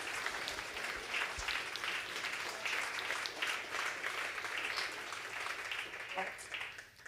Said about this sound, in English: why don't we give our panelists a round of applause?